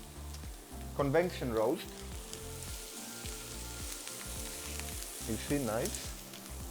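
Chicken skin sizzling in a hot pan with no added oil, a crackling, popping sizzle that continues under someone speaking.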